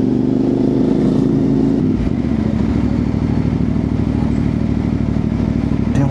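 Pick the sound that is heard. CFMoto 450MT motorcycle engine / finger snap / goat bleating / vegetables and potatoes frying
CFMoto 450MT motorcycle engine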